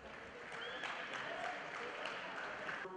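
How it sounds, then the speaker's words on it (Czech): An indoor athletics crowd at the Czech national championships applauds after a women's 800 m race, with a faint, steady patter of clapping in a large hall and a brief whistle or tone on top. "Prosím, potlesk."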